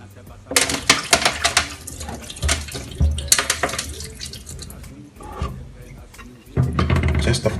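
Asaana ingredients are washed in water for a Ghanaian drink, giving loud splashing and sloshing with clattering in a basin or sink. The splashing comes in bursts with a quieter stretch in between.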